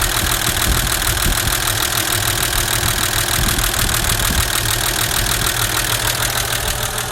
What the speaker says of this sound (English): Don't know if you could hear me because of the engine running